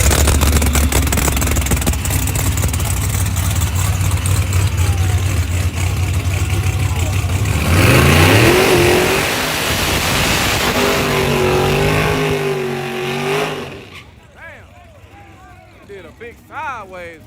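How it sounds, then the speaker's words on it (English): A twin-turbo drag car at a drag strip performs a sideways burnout, its engine droning loud and steady before revving and tire noise surge, then cutting off abruptly near the end. "sideways burnout."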